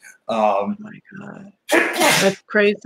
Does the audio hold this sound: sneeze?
yes